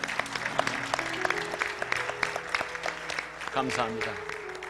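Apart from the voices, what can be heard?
applause for pastors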